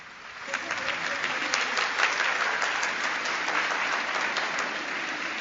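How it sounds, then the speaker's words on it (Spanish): An audience at a public talk in Uruguay claps steadily, building quickly and holding at a full, even level, with distant voices mixed in. "Démosle un aplauso a todos los que están acá"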